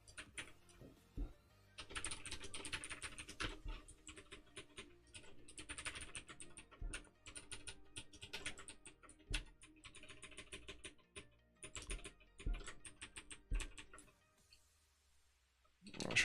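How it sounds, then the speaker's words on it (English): Typing on a computer keyboard with rapid, uneven bursts of key clicks and short pauses runs throughout, fairly close but quiet, with someone occasionally speaking over it. "I should have started typing."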